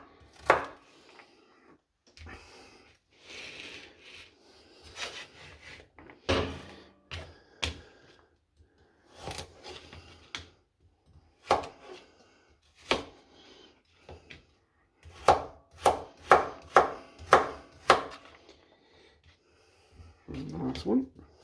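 A knife chops potatoes roughly into dice on a board for a tattie and leek soup: a run of sharp, irregular taps with pauses, then a quick burst of closely spaced chops, with faint breathing and movement between.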